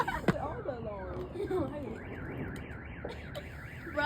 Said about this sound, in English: What are all these doing? All the alarms.